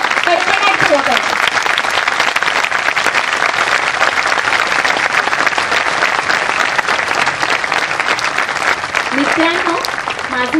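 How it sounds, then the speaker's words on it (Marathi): A conference audience at a youth gathering breaks into loud, sustained applause. Dense clapping continues unbroken for about ten seconds, with faint voices mixed in underneath. "मोठ्याने टाळ्यांचा कडकडाट झाला पाहिजे"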